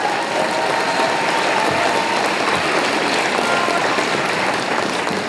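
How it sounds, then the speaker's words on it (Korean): An audience claps to welcome a speaker at a family camp gathering, a dense, even wash of applause from many hands that stays loud and steady throughout with no voices breaking through. "네, 박수로 환영해 주시면 감사하겠습니다."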